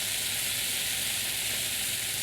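Canned Muir Glen diced tomatoes sizzle and fry in a hot pan for lasagna, a steady, close, bright hiss with faint crackling throughout and no voices.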